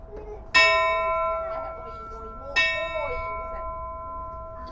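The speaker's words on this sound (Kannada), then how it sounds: "ತುಲೆ ಗಂಟ ಬಿಟ್ಟೊಂದುಲ್ಲೇರು" A clear metallic ship's bell aboard a cruise ship rings twice, each strike ringing out and slowly fading, the second about two seconds after the first.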